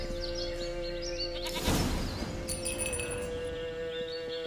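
A goat bleats in The Witcher 3, with a clear, wavering cry near the middle over a steady ambient game soundscape with faint clinks, moderately loud and without speech.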